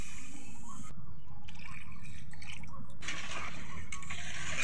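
Water poured into a pot of chicken curry cooking with potatoes, a close, loud splashing gush in two bursts separated by a short pause.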